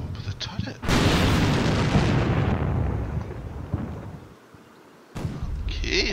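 A tank main gun fires in the wargame Combat Mission Red Thunder, a single loud booming blast that rolls out into a long decaying rumble, with lighter battle noise before and after.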